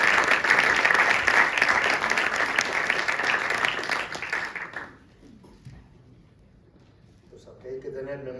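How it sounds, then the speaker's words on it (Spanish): A large audience applauds loudly and steadily for about five seconds to welcome the president of the Fundación Gipuzkoa Basket at a sports mental-health event, then the clapping fades away and a voice begins speaking. "me gustaría que con un fuerte aplauso nos dé la bienvenida"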